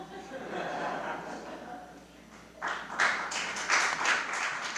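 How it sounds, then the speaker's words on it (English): Audience at a town planning commission meeting breaking into applause after a public comment, scattered clapping swelling midway over murmuring, moderate and somewhat distant in a hall. "Can we keep the applause down?"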